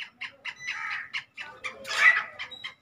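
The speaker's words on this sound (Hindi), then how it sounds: "मुर्गियाँ बाहर जा रही है ग्राउंड में।" Hens and chicks head out into an open ground, clucking in a rapid series of short, close chirps and squawks, with one louder, longer squawk near the end.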